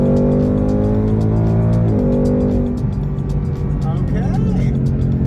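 A 2022 Ford Mustang GT with active exhaust in track mode, running loud and close with a deep rumble and a rev swell that drops, with voices over it.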